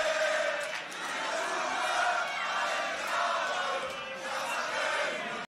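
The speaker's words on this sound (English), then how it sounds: "What song are they chanting right now?" A large audience chants and cheers together at the Grand Beatbox Battle 2019 tag team final, a dense, loud and steady roar of voices with rising swells that fills the whole stretch.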